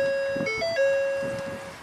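A 2012 Ford F250 PowerStroke diesel sounds its key-on ignition chime, a short clear run of electronic tones that briefly shifts pitch before settling into a steady tone, with no voices.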